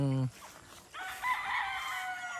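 A young Sweater over Boston Roundhead gamefowl rooster, six months old, gives a strained, high crow lasting over a second, close by, after a brief voice at the start.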